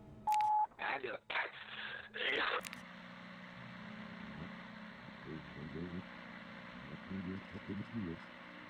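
A payphone is dialed in the video game You have [x] missed calls: a quick run of loud keypad tone beeps, followed by a voice talking over a faint steady hum.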